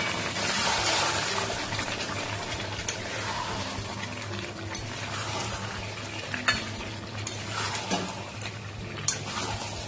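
Boiled mutton frying and being stirred in a pan, a loud continuous sizzle with spoon scrapes and occasional clinks against the pan, no talking.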